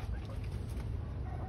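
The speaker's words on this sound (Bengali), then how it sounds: "এই মোরগটা বহুত হারাম" A rooster kept in a city home clucks faintly, buried under a steady low hum with a possible murmur of voices in the background.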